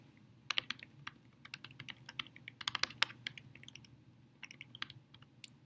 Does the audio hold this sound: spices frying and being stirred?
no